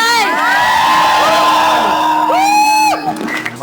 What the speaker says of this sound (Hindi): अभी देख जोरदार तालियां होनी चाहिए